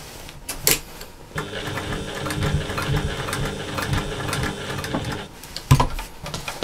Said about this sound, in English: So you're stitching a rectangle.